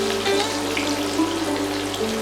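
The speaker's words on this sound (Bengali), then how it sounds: "এবারে কেটে রাখা আলুগুলোকে ভাজবো।" Cut potatoes frying in a pan as the first vegetables for a mixed vegetable curry, a soft steady sizzle with a faint watery hiss, alone and continuous.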